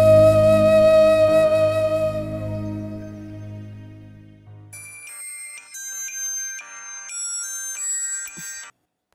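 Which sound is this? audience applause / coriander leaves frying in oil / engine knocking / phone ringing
phone ringing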